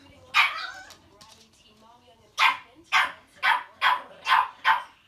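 A Chow dog barks in sharp bursts, one bark followed after a pause by a rapid run of five, loud and near, with faint voices in the background.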